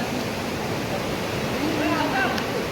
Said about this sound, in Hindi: ये तो झरना बहते हुए आ रहा है,